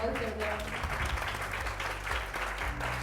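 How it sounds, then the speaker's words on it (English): Applause from a live show audience for two guests, a dense continuous wash of hand claps at moderate level with some low rumble and murmur mixed in. "Round of applause for both of them."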